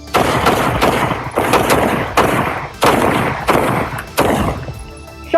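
Gunfire during a police confrontation at an apartment in Indianapolis: six loud, sharp shots in an irregular sequence, each with a reverberant tail, with no talk over them.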